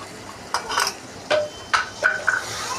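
A ginger and cumin spice paste with turmeric, chili powder and salt is stirred in a wok, giving a few separate scraping and clinking spatula strokes against the metal, close by and moderately loud over a faint background hum.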